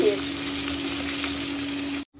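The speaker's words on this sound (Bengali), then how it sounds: "তো মাছগুলো ভেজে নিচ্ছি।" Fish frying in oil gives a loud, steady, continuous sizzle, close by, that runs unbroken before cutting off abruptly near the end.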